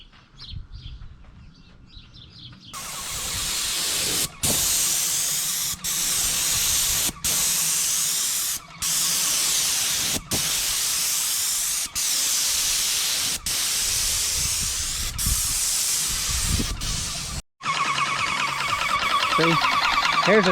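Paint sprayer coating the wall of a house, a loud steady hiss that runs on for long stretches, broken by brief pauses as the trigger is released, ending with a shift in tone.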